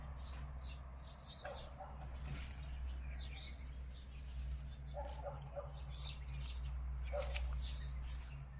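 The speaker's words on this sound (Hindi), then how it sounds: "आप वीडियो में सुन सकते हैं पक्षियों की आवाज़ें।" Assorted small birds chirp and tweet in short scattered calls, faint and at a distance, in a forest planted in the desert. A steady low hum runs beneath.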